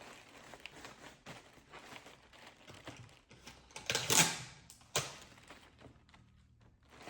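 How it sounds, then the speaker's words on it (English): Paper being taped down on a table for a floral craft, with steady soft rustling, crinkling and small thumps, then a sharp louder tear of tape peeling off a roll near the middle and a firm pat afterward. "I'm going to tape this down."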